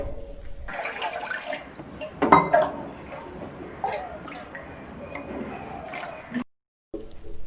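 Water is poured into a pot of tamarind extract for a Tamil fish curry (meen kulambu), with splashing and a sharp clink of the vessel against the pot, then a brief silence.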